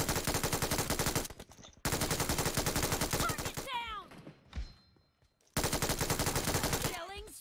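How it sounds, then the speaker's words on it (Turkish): Sustained bursts of rapid machine gun fire from an MG in the mobile battle royale game PUBG Mobile, loud and dense, broken by a short pause and then resuming, with brief game effects in the quieter stretch. "Oğlum bu MG güzel silah ya."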